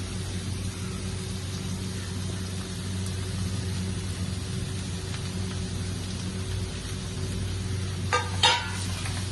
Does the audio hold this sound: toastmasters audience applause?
no